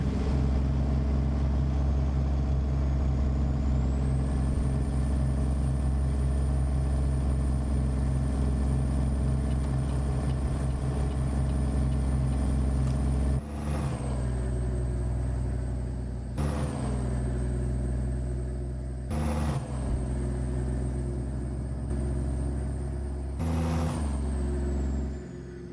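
A 389 glider truck hauling a Wilson Pacesetter trailer in American Truck Simulator drones along under a steady, loud engine rumble with a high whine, broken by four brief rattling passes over rumble strips.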